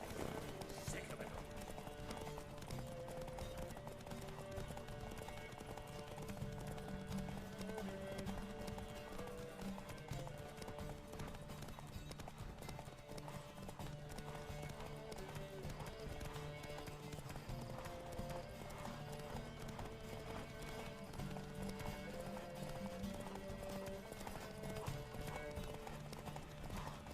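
Horse hooves clip-clop at a steady galloping rhythm during a race in the video game The Witcher 3, with continuous game music and voices over them and an occasional neigh.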